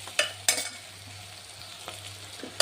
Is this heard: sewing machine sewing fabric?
no